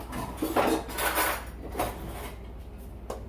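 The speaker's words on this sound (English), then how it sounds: "Let me get a spoon." Cutlery rattles and clinks as a spoon is pulled from a kitchen drawer, a few close, moderately quiet metallic jingles and knocks with no talking.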